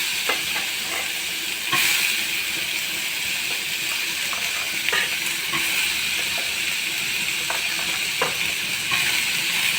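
Green beans sautéing in oil with onion and tomato for a South Indian sambar, a continuous loud sizzle with occasional scraping stirs and clicks from the pan, no voices.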